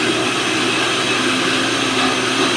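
A countertop blender whirs steadily at close range, mixing workout coffee with its lid on, a dense continuous motor roar that holds an even loudness throughout with no talking.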